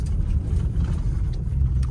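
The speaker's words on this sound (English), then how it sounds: "having a truck that can just go cruise off-road like this" A 2023 Ford Raptor truck cruises over a dirt off-road track, its engine giving a steady low rumble heard from inside the cab, with no talk.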